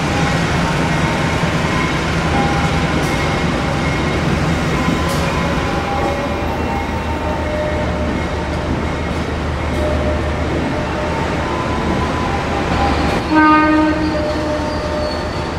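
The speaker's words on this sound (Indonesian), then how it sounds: "Oke, ini Blora Sura masuk." A Blora Sura passenger train rolls into Cepu station in Indonesia with a steady, loud rumble of wheels and carriages, and a horn blast sounds near the end.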